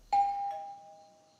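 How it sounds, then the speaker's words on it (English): A doorbell rings once with a clear two-tone chime, the first note sharp and the second ringing out and slowly decaying, close and alone. "When he finally rang the doorbell"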